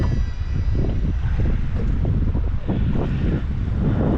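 Heavy wind buffeting the microphone on the Columbia River, a continuous loud roar with rushing gusts and no break, close and dominating the scene.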